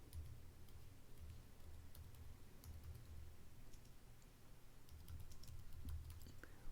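A search query is typed on a computer keyboard as faint, scattered key clicks over a quiet background hum.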